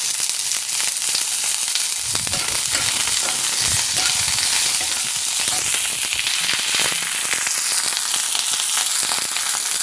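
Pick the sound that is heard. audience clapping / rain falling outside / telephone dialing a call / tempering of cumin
tempering of cumin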